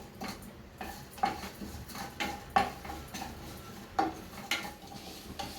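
Chana dal and urad dal roasting in a pan for a curry leaf, dry ginger and sesame spice powder, with a metal spoon scraping and clinking against the pan in irregular strokes and a faint dry rustle of lentils, no talk.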